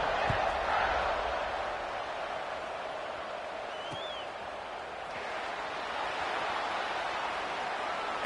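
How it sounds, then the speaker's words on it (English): A football stadium crowd buzzes after a score, a dense, steady roar of many distant voices that holds evenly throughout, with no single voice standing out. "this crowd is buzzing after that last score"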